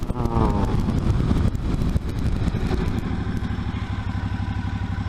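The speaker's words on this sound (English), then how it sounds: "we'll get it up to 100, and we'll do the brake test on it for us" A Suzuki V-Strom motorcycle brakes hard from 100 km/h, its engine note dropping from a loud roar to a lower, rumbling idle-like putter, with wind noise early on, close to the rider.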